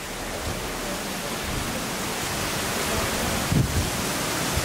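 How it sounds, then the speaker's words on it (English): A heavy summer rainstorm pours down as a steady, dense broadband hiss with no letup, close and loud, and a brief bump of handling noise near the end. "it's raining crazy"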